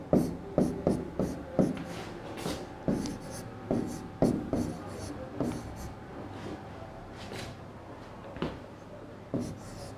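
A pen scratches across paper up close as a PAN card number is written by hand, in a series of short strokes, some sharper, that slow and thin out toward the end.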